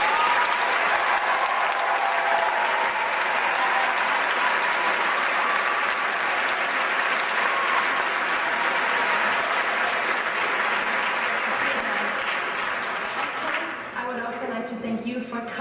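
Sustained, loud applause from a conference audience at a closing ceremony in The Hague, dense clapping holding steady for many seconds before thinning out near the end.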